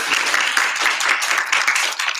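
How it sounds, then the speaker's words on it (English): An audience at an education event claps steadily as a program coordinator makes her way to the stage, a close, continuous patter of many hands with no voices over it. "a round of applause"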